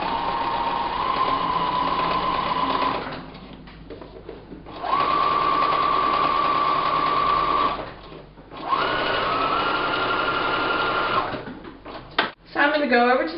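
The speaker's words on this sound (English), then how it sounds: "just going to keep the guide right along that seam, and I'm just going to stitch down" A sewing machine stitches down a seam on a multi-purpose pouch with the guide along the seam, running in three long steady bursts with short pauses between, close and loud, with faint talk in the gaps.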